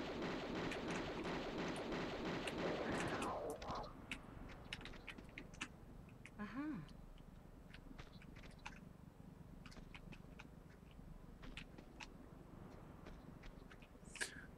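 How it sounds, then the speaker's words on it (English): Automatic pistols in Tomb Raider 2 fire at snow leopards in the Tibetan foothills: a dense, loud burst of rapid shots up front, then scattered sharp single shots and clicks against a quieter wintry background. "We can use our automatic pistols on these guys."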